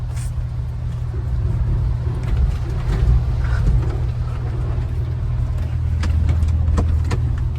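A four-by-four's engine hums in a steady, loud low rumble while off-roading, with faint rattles and knocks over it throughout.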